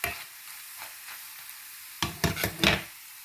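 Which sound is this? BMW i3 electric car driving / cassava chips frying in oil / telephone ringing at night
cassava chips frying in oil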